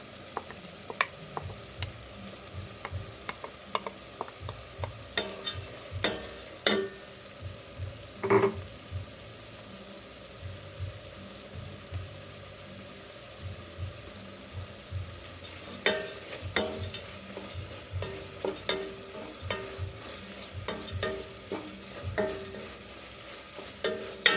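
Fried prawns are stirred through a sizzling pan with tomatoes for a Kapampangan-style mung bean dish. A steady frying hiss runs throughout, broken by irregular scraping and clattering spatula strokes that cluster more densely toward the end.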